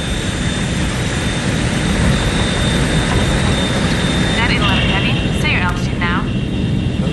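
Jet airliner United Flight 811, a heavy, descending rapidly after explosive decompression: a loud, steady roar of engine and rushing air fills the cabin, with radio-like chirps and voice fragments over it late on.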